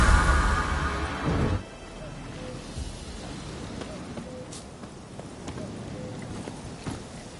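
Roach, the horse in The Witcher video game, gallops with rhythmic hoof clip-clops, loud in the first moments and then quieter and steady beneath game ambience, with a voice speaking at the start.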